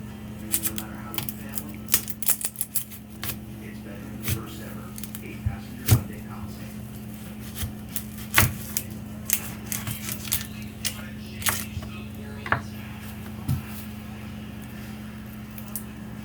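Knife cutting half an onion on a board, with scattered light, irregular taps and thuds over a steady low hum in a kitchen, close and fairly faint.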